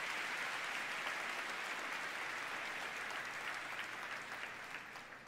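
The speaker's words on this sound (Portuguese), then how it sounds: "vamos dar uma salva de palmas ao Senhor" A church congregation claps for the Lord in dense, continuous applause that fills the room at a steady level and tapers slightly toward the end.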